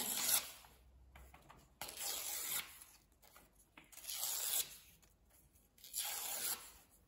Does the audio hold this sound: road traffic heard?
no